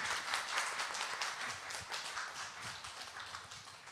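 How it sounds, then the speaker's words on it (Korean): Congregation applause in a Korean church welcoming a missionary at a Friday evening service, a steady crowd of many hands clapping fairly softly and evenly for several seconds. "우리 힘찬 박수에 격려 박수로 맞이하겠습니다."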